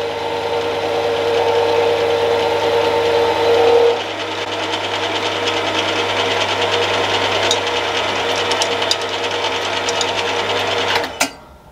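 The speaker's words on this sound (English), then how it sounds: "that's just a 14mm carbide roughing end mill I've got" Milling machine cutting metal with a 14mm carbide roughing end mill, a loud steady mechanical whine and hum that drops slightly in level partway through, then winds down abruptly at the end.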